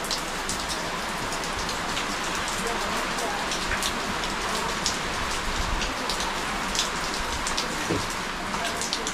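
Heavy rain pours steadily outside a house, a dense, continuous hiss with scattered drops spattering nearby surfaces, unbroken for the whole stretch with no voices.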